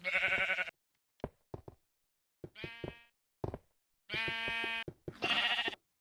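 Sheep in Minecraft bleating several times in short, clear, close calls separated by silence, with faint clicks between them.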